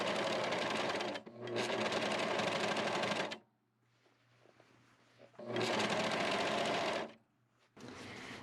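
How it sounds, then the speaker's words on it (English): A serger overlock machine sews down the side of a quilt in fast, rattling bursts: three loud runs of rapid stitching separated by short quiet pauses, close and clear with no talk. "put the next surface right under there and serge down this side"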